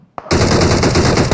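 Machine gun fire in a video game bursts in loud and close after a brief click, then runs as a dense, continuous rattle of rapid shots to the end.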